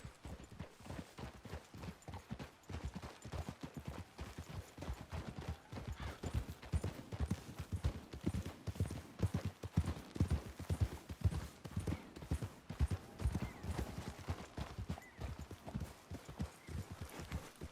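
Horses' hooves clip-clop in Red Dead Redemption 2, a steady, fairly quiet walking rhythm of many overlapping hoofbeats that keeps going throughout, with no clear talking.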